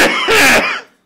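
A single harsh cough burst, loud and close, lasting under a second, with a rough throaty onset before fading out.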